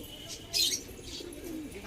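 A Sarangpuri high-flyer pigeon gives a brief, soft coo with a couple of faint low murmurs after it, set against a quiet background with light bird chirps.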